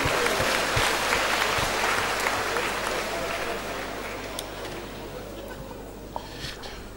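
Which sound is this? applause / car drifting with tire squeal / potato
applause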